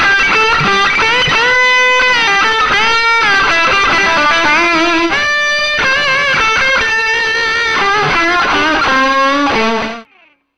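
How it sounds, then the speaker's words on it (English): An electric guitar runs through the airwindows Edge plugin, a seven-stage distortion with hypersonic filtering and tone shaping, giving loud, thick, sustained distorted chords and bends that play continuously before cutting off near the end. "edge, it's just a 7-stage distortion with hypersonic filtering and tone shaping controls"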